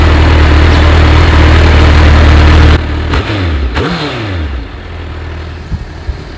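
A Bajaj Pulsar NS motorcycle with an aftermarket exhaust, engine idling loudly and close before a few short throttle blips rise and fall in pitch, then settling back to a rough idle.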